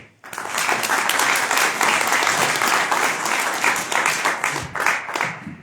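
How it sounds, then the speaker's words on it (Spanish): Audience applause at a book presentation for a poetry collection at the Bogotá book fair, a dense, steady burst of many hands clapping throughout, loud and close, with no talk over it. "Yo les pido un fuerte aplauso para él."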